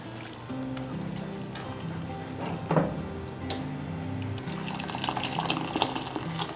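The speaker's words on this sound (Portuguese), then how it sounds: "Vou colocar um pouco de água e vamos deixar ele aqui cozinhando para estar apurando o molho." Water pours into a pan of homemade sauce as it cooks, making a steady liquid rush with a light sizzle that grows brighter toward the end.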